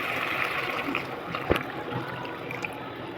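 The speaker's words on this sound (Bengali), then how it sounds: "এবার এতে গরম জল দিয়ে দেবো কোনো রকম ঠান্ডা জল দেবো না" Hot water pours into a simmering kofta curry made with green banana, making a steady close trickle and splash, with one sharp knock of a utensil midway.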